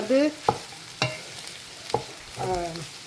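Kottu parotta stirred on a hot griddle, with a continuous low sizzle broken by a few sharp metallic scrapes and clanks at irregular intervals, close and fairly loud.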